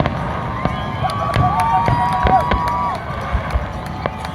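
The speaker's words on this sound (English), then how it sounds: "that's a really big fucking firework" Repeated Fourth of July firework bangs pop and crack at irregular intervals over a murmuring crowd at Brighton Beach, with some distant whistling and people talking nearby.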